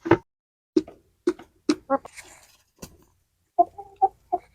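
Chickens clucking close by in short separate bursts, with several soft bawks spaced out amid quiet pauses.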